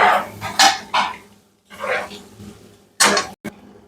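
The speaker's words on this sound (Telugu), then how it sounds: "ఇప్పుడు ఎగ్స్ వేసుకోవాలి." Boiled egg pieces tumble into a pan of onions and capsicum, giving a few separate bursts of metallic clinks, clatter and scraping with short quiet gaps between them.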